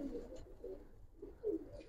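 Pigeons kept as racing and colouring birds coo softly, a few low rounded calls in a loose rhythm, faint and close against a quiet background.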